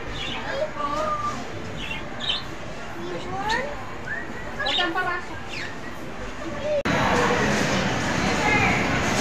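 Small birds chirp and tweet in scattered short calls inside a busy pet shop, fairly close, under a steady murmur of indoor crowd noise; the scene shifts to louder ambient bustle near the end.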